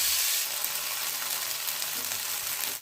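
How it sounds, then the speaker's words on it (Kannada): Marinated paneer frying in oil in a pan gives a steady, close, bright sizzle that crackles evenly throughout with no voices. "ಪನ್ನೀರ್ ಎಲ್ಲ ಕಡೆಯೂ ತುಂಬ ಚೆನ್ನಾಗಿ ಫ್ರೈ ಆಗಲಿ ಈ ರೀತಿಯಾಗಿ."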